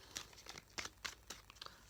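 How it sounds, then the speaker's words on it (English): A deck of tarot cards is shuffled close up, soft papery riffles and crinkly flicks coming in quick uneven bursts, faint and alone without any talking. "So one more shuffle."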